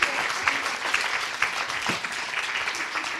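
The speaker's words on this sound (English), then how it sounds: "Let's clap for that summary." Conference audience applause after a panel summary on child and adolescent mental health: a full, continuous wash of many hands clapping at a steady, fairly loud level throughout, with no voices standing out.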